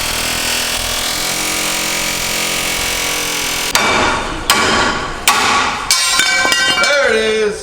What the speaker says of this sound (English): Oh, there was a little loud air hammer.